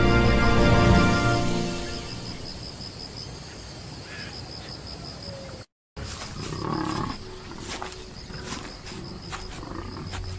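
A big cat predator roars deep and loud in the wild African night. The long rumbling roar fades and is followed by grunts, while crickets and insects chirp steadily throughout.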